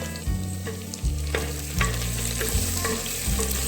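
Spinach, green chickpeas, guava, sugarcane and jujube for Bhogi bhaji sizzle in a pan while a spoon stirs them in about five regular, scraping strokes over a steady frying hiss.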